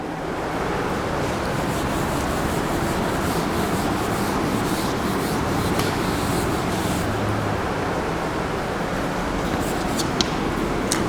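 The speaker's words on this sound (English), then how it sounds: "Because I want to rub this definition." Writing is rubbed off a classroom board in a steady, scratchy, continuous rubbing sound that stays fairly close and consistent for the whole stretch, with no talk.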